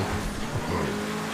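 Engine drone of a Pegassi Toreador being driven in GTA 5 Online, a steady low hum with faint tonal whine, continuous and moderately loud, with no talk over it.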